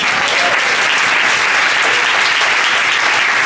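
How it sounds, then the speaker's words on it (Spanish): Loud, sustained applause from a large group fills the whole stretch, a thick continuous roar of clapping hands. "Dale un aplauso a Jesús."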